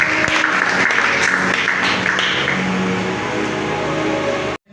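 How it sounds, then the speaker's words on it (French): A church congregation applauds loudly and steadily through a morning worship service, dense clapping filling the space from start to finish before it stops abruptly at the end. "Acclamons encore Christ."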